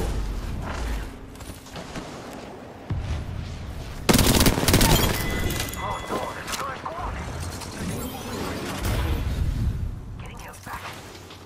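Rapid automatic gunfire crackles in sustained bursts in a video game, loud and dense with occasional heavier booms, and it continues without a break through the clip.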